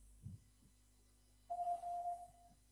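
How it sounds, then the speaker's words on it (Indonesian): A Morse code letter A plays as a clear electronic tone: one short beep followed at once by a longer one, with quiet before it. "Huruf A itu titik dan garis. Bagaimana bunyinya di Morse?"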